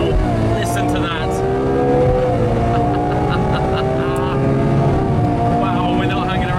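A race car circles the Le Mans circuit, heard from the passenger seat as a loud, sustained engine roar with rising and falling pitch through gear changes.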